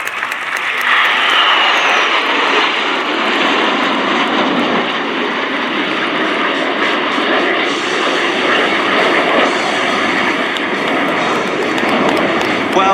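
A loud, steady roar of Patrouille Suisse jets flying overhead at RIAT 2024, with a broad rushing engine noise that persists throughout, a crowd faintly audible beneath it.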